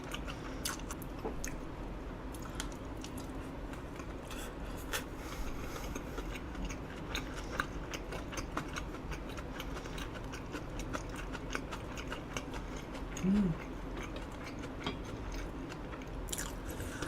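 Close, quiet chewing of an eel rice bowl (jangeo deopbap), with soft, steady mouth sounds and faint bites over a low background hiss and no speech.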